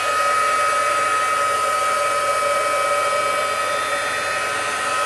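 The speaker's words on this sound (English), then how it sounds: "I'm going to just give it a quick spritz here with my heat gun" A heat gun blows steadily up close to dry Versamark ink on a card, giving a loud, constant, unbroken whooshing whine with no pauses and no talk.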